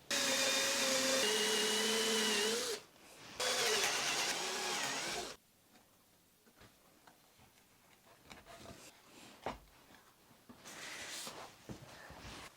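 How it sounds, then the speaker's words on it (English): A power drill boring dowel holes in wood, loud steady whining bursts close by in two runs with a brief pause between, then quieter handling clatter, a short burst of drilling again near the end. "now we can drill holes."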